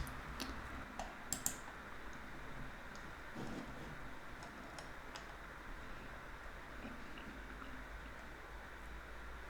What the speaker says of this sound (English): I'm gonna type in J